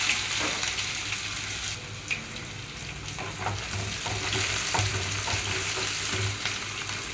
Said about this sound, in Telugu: ఇప్పుడు ఇందులోనే కట్ చేసి పెట్టుకుని ఉల్లిపాయలు వేస్తున్నాను